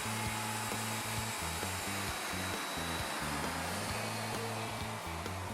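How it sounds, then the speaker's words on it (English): Router cutting a tenon with climb passes on a Leigh FMT mortise and tenon jig, a steady loud motor whine with rhythmic low pulsing throughout, no voices. "Start by climb routing clockwise. This provides a very clean shoulder cut."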